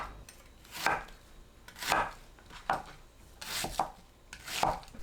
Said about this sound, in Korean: 사과, 배, 양파는 믹서에 갈기 좋은 크기로 썰어주세요.